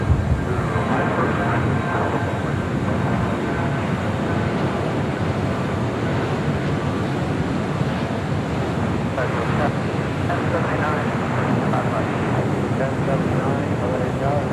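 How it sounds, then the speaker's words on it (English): Heavy Boeing 747 departing a runway at LAX, a broad continuous roaring rumble of jet engines that stays steady and fairly distant, with a radio voice talking over it. "Heavy 747 departing, possibly turbulence, like 25 left"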